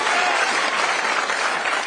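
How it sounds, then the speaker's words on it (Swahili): Audience applause at a political forum for people living with disabilities in Kenya, a dense, steady burst of clapping from a crowd that fills the whole short stretch without pause. "Mpigeni makofi"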